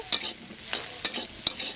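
Soaked soybean chunks stirred in a hot wok, four sharp scraping strokes of a spatula over a soft sizzle, close and clear.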